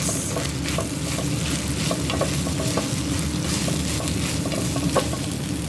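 Steady sizzling from a pot of food on the stove while salt is stirred in, with rhythmic spoon scrapes throughout, close and continuous with no speech.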